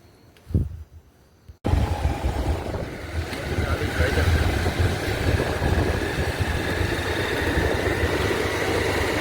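A motorcycle engine starts after a short quiet pause and then idles steadily nearby, a continuous low rumble that holds through the rest of the clip.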